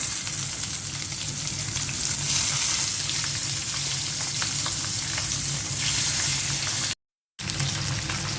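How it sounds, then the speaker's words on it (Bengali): Pabda fish frying in hot oil with tomato, a steady, dense sizzle that holds loud and even throughout, broken by one brief silent gap near the end. "পাবদা মাছটা ভেজে নেব।"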